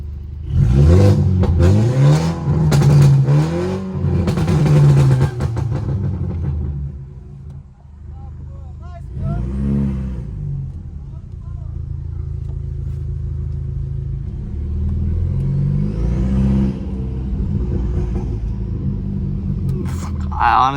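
Burble-tuned stage 2+ BMW 330i engine revving, loud deep rumbling revs in bursts, then a dip to a lower idle and another rising rev with crackly burbles, heard up close with people talking at times.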